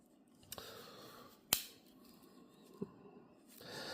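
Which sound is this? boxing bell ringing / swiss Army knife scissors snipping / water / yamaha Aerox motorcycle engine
swiss Army knife scissors snipping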